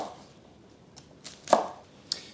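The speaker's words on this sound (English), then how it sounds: "Then wash two bunches of asparagus spears and cut them into roughly" A knife cuts fresh asparagus spears into roughly inch-long pieces on a board, making a few sparse, crisp chops with one sharp, louder stroke in the middle and quiet gaps between.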